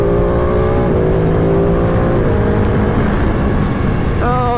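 Ducati 959 Panigale engine droning steadily while riding on a bumpy road, its pitch easing between gear changes before rising sharply again at the end, loud and close under heavy wind rush.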